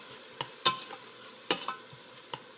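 Sautéing in a pan for jerk chicken mac and cheese, a soft sizzle broken by a handful of sharp utensil scrapes and taps against the pan.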